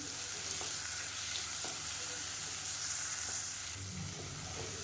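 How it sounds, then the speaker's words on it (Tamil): Onions and tomatoes sauté in a pan with rock salt for a Chettinad mutton bone soup, giving a steady, soft sizzle and crackle with no voices. "இப்போ நல்லா வதங்கிட்டு இருக்கு"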